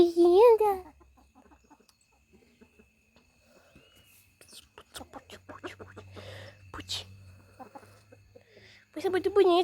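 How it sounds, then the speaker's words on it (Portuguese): Roosters crow loudly at the start and end, with soft clucking between, while a person speaks quietly and there are rustling and handling noises. "Eu fico olhando pra esses galos"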